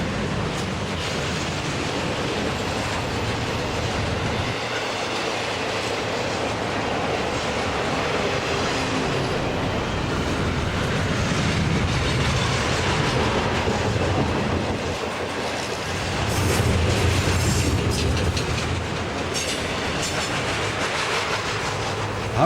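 A Union Pacific container freight train carrying domestic containers rolls past close by on the Sunset Route, a loud continuous roar of wheels and clattering cars with rhythmic clickety-clack throughout.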